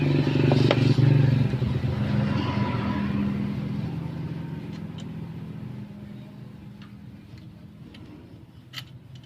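A Yamaha Mio Soul GT fuel-injected scooter engine roars loudly up close, then gradually winds down to a low idle with light ticking and clattering.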